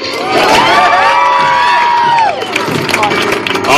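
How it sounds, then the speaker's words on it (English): A circus audience cheers, whoops and shouts loudly, with children's voices rising in a bright sustained roar that thins into scattered clapping and chatter. "You may applaud."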